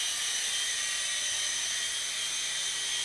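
A Hubsan H205B remote-control model helicopter flies with a steady, thin, high-pitched electric whine from its small motor and rotor, even and unbroken, with no voices over it.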